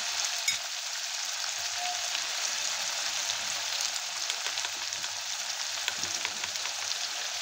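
Hot oil steadily sizzles and crackles as cut vade for amti fry in a pan, a dense, even hiss with scattered tiny pops, close and continuous, with no voices.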